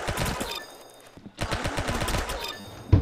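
A golden gun fires rapid automatic bursts in a video game, with loud rattling volleys broken by a brief pause.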